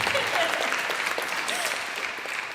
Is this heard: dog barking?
no